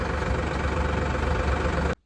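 A loaded motorcycle's engine idles in a steady, even rumble close by for about two seconds, then cuts off abruptly, with no voices over it.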